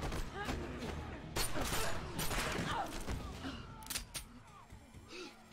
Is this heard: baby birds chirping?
no